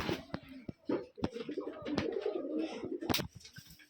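Domestic pigeons kept in a loft coo in a low, rolling, repeated pattern close by, broken by sharp clicks and flutters, with occasional speech.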